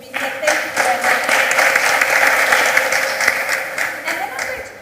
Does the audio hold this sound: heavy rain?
no